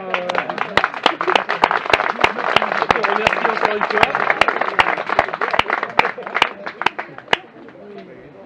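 Audience applause fills the room, a steady wash of many hands with several sharp, loud claps close by, tapering off toward the end as a voice speaks over it.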